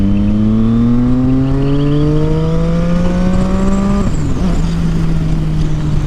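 A Triumph Street Triple motorcycle with a very loud exhaust revs up hard in one long rising sweep lasting several seconds, then drops abruptly and settles into a steady, lower idle, close and dominant with no talking.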